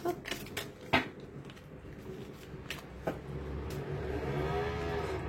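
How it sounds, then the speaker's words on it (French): Motorcycle engines roar past outside, a rising, sustained drone that swells toward the end, with a few sharp knocks nearby. "il y a des motos, mais les motos ici ne sont pas très silencieuses"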